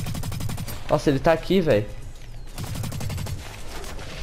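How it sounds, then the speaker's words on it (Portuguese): Rapid automatic gunfire in the video game BlackLight Retribution, dense fast bursts of shots running almost continuously, loud and close, with someone talking excitedly over the shooting partway through. "Eu taquei a granada e dei uns tiros e ele não morreu."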